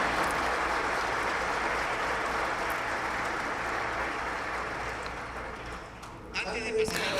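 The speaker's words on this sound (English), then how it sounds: "So a big applause for them," Audience applause at a mining event's closing ceremony in Peru, a broad steady wash of clapping that carries for several seconds, then thins and breaks into a few scattered claps near the end.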